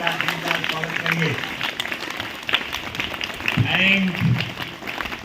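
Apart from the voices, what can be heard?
audience applauding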